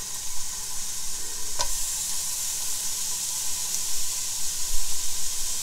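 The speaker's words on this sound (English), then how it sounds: "I'm going to fry it up in my soup pot" Bacon frying in a soup pot for homemade potato soup, a steady close sizzling hiss with one sharp clink partway through.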